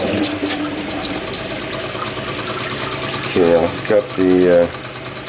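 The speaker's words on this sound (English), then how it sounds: "you can see the generator's rotating with the turbine quite well" A small faucet-driven water turbine spins a tiny generator, giving a continuous whirring, rushing drone of running water and rotor, with someone speaking over it near the end.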